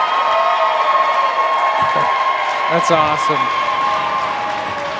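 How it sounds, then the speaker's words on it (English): A crowd at the Dawg Bowl XV survivor game cheers and applauds in a steady, busy wash. Excited voices talk over it, and the noise eases slightly toward the end. "Oh, The crowd erupts."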